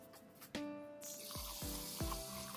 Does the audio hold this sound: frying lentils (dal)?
yes